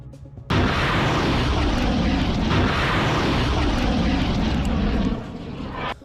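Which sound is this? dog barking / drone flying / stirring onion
drone flying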